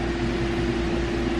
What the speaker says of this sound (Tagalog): yung electric fan, kung naririnig nyo